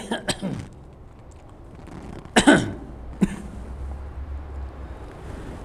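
A couple of short coughs at the start, then a louder harsh cough and another single cough, over a low rumbling background.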